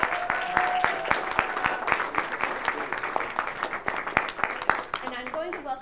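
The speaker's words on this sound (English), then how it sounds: "We give them a round of applause." Audience applause for debaters at a debate event, a crowd of scattered claps with some louder individual hits, ongoing for several seconds at moderate level, with a faint tonal hum and a brief voice near the end.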